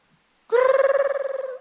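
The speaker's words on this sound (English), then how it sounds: "Like my alarm is ringing now." A sharp electronic ringing bursts in after a brief silence, a loud warbling trill that rattles on steadily for over a second before cutting off.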